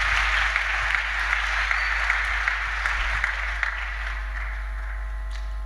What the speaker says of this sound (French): Une offrande d'acclamation pour notre Dieu.